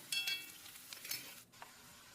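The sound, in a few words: onions and curry leaves sautéing in oil with mustard seeds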